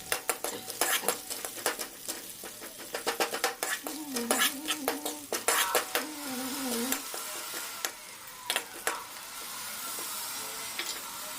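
Garlic and onion fry in a pan with a steady sizzle while a utensil scrapes and stirs, clanking against the metal; a faint voice hums briefly in the middle.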